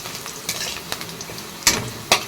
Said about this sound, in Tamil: வெங்காயம் போட்டுக்காச்சு கொஞ்சம் ப்ரௌன் கலர் ஆகட்டும்